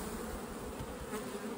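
Honey bees buzz steadily inside an opened hive with burr comb on the lid, a dense close-up hum holding level throughout with no talk.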